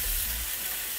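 Pork tenderloin with basil hitting a burning hot pan, a brief bright sizzle and crackle of frying close up.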